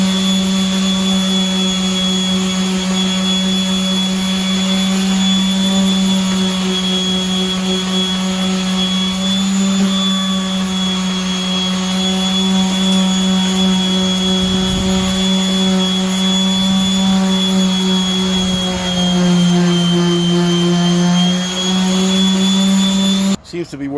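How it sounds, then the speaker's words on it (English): An orbital sander with 220-grit paper works the passenger rear window area of a 1991 Honda CRX down to bare metal, giving a steady, loud, continuous whine with strong tonal harmonics that holds for the full span. "So now I'm going to go ahead and grab the orbital sander and see how much more we can get off."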